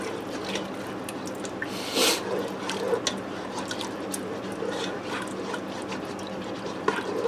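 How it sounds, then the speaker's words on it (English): Ham and potato au gratin ingredients stirred inside a Ninja Foodi pot, giving a steady wet sloshing and scraping with a few light clinks against the pot, continuous and close for several seconds. "I'm going to give this a quick stir."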